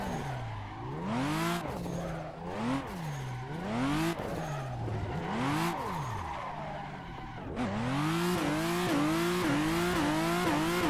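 A drifting car in Assetto Corsa squeals its tires in long, rising and falling sweeps as the engine revs up and down through repeated slides, loud and close, with no talk.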